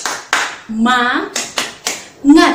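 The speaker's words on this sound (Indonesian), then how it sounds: "Semuanya berdiri, kita mau tepuk semangat." A standing group performs a rhythmic 'tepuk semangat' spirit clap, sharp unison claps alternating with loud chanted shouts, close and energetic.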